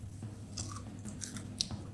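Close, wet chewing of cold, crunchy fried chicken, with a few sharp crackling bites breaking through a steady low hum of room noise.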